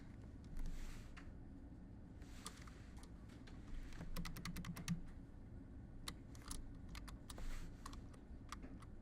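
Quiet computer keyboard typing during a copy-paste shortcut, a scatter of soft close key clicks with a quick burst of taps in the middle, over faint room hiss and no speech.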